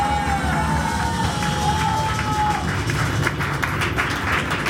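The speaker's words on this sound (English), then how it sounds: "Let's give them a big applause, Brian." A party crowd on a fundraiser boat ride cheers and claps for Brian, a lively mix of shouts, whistles and scattered applause over background music.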